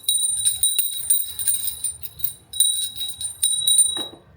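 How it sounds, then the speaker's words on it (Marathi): A small hand bell rings repeatedly during a Hindu puja at home, sharp bright strikes in quick bursts with brief pauses, close and fairly loud, with a few softer household sounds near the end. "वाजव घंटी जोर जोराने"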